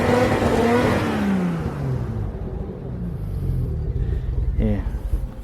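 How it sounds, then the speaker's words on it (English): A Nissan Skyline R32 engine revved once after a fuel problem, a loud rising roar that falls away into a rough idle, close up. "let's give it a rev and see."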